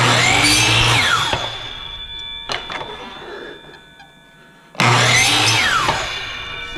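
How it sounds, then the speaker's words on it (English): A miter saw whining as it cuts a wooden turkey call paddle, a loud buzzing spin-up and cut, a quieter pause with small clicks, then the motor roaring again; close by. "Take the miter saw."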